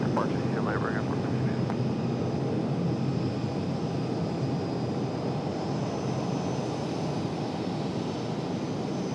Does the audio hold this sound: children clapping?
no